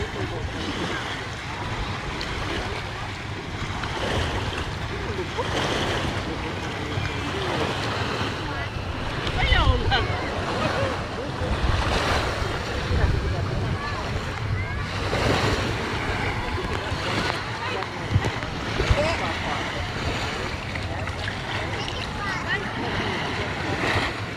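Surf washing onto a white-sand beach with clear water at Boracay in the Philippines, a steady broadband wash with wind buffeting the microphone and people talking nearby throughout.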